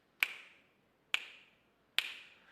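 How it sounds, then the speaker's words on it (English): Three crisp finger snaps, evenly spaced about a second apart, each a sharp close click that fades quickly, alone with no talk, made by a music teacher in a primary school lesson. "I have the sound of snapping my fingers"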